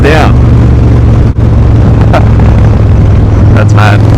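A Harley-Davidson with an 88 engine accelerates loud and close, its deep rumbling exhaust throbbing steadily under strong wind buffeting. A rider speaks over the engine.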